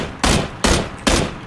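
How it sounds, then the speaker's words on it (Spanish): Covering fire in the battle royale game PUBG comes as four loud, sharp gunshots, evenly spaced about every half second and close by, with no voices over them. "Hago disparos de cobertura."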